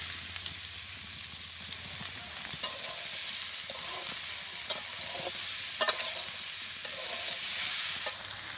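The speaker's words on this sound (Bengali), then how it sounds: "তো সুন্দর করে কষাই নিলাম" Potatoes with salt and turmeric sautéing in a pan during village cooking, steady sizzling broken by repeated scraping stirs of a utensil against the pan, close and without talk.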